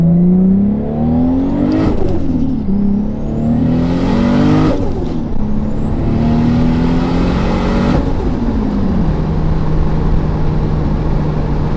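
Big-turbo 2JZ engine in a Lexus SC300 pulling hard from low RPM, loud and close: rising engine tone climbs through repeated shifts, then settles into a steady high drone.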